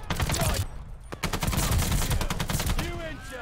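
A new assault rifle firing in Call of Duty: Vanguard, with dense rapid automatic bursts cracking loudly and continuously up close, a short pause between strings of fire, and a faint voice in the background.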